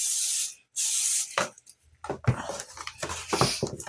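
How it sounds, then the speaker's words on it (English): Two short, loud hissing bursts of cooking spray coating a cake pan, followed by rubbing and light clattering of the pan. "it's really a lot easier for me to spray the pan than it is for me to oil a pan"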